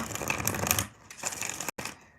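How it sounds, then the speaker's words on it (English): Tarot cards shuffled by hand in short riffling bursts, a dense crisp flutter for most of a second, a brief pause, then another quieter round of shuffling close by with no talk. "Couple more shuffles here"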